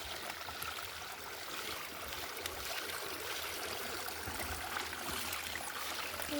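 Water trickling and flowing out in a steady, soft stream, a faint continuous gurgling wash with no voices.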